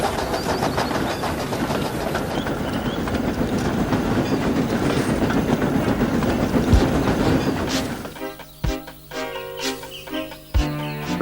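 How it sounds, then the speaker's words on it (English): Steam engines labour to haul freight trucks up a hill, with a dense, continuous rumble of wheels and chuffing at first, then a sparser stretch of clanks and hisses toward the end. "Slowly but surely, the snorting engines forced the unwilling trucks up the hill."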